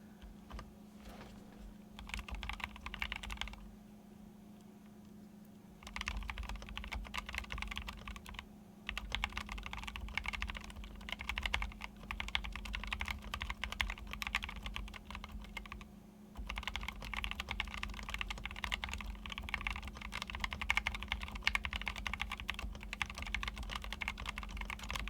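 Keystrokes on a DZ65 keyboard built in a rosewood case with lavender switches, a fast, steady stream of close clacks with a few brief pauses, no voices.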